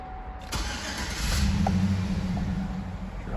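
A 1999 or 2008 GMC Sierra pickup truck engine cranks and catches after a brief click. It settles into a steady, rumbling idle close by, with no talk over it.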